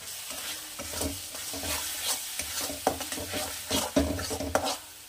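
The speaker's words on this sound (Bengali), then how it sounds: "মশলাটা একটু কষে আসুক, তারপরে আমি পরের মশলাটা মেশাবো" Spice paste sautés in a pan for a Bengali katla fish curry with potatoes, a sizzling bed broken by rhythmic scraping strokes of a spatula stirring, growing sharper toward the end.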